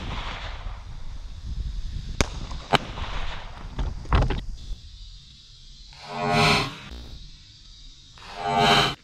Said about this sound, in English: I'm gonna shoot it with the 9mm